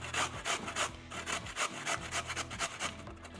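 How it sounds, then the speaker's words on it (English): Radishes rubbed down a box grater in quick back-and-forth strokes, a close, scratchy rasp repeating steadily several times, with no voices. "the easiest way to do the radishes is with a box grater."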